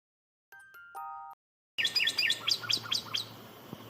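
A northern cardinal gives a series of bright, rapid chirps, close and clear; a few faint tones come first, then a quick run of sharp repeated notes over a light outdoor hiss.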